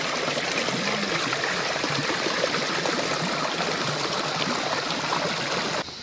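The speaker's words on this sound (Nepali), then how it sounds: "पानीको मुहान यहाँ अलिअलि रहेछ है।" A small spring-fed stream trickles and burbles steadily outdoors, a continuous close rushing of water that cuts off abruptly at the end.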